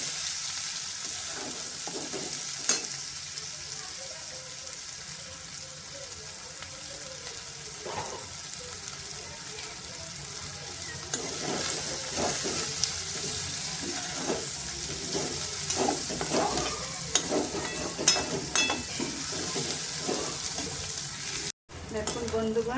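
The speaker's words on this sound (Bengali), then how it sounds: "পেঁয়াজ কুচিগুলো সুন্দর করে ভাজাবো" Chopped onions fry in oil in a pan for a prawn curry, a steady sizzle with intermittent stirring scrapes and clinks, fairly close, with no talking.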